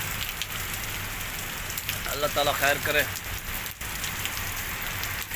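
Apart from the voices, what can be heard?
heavy rain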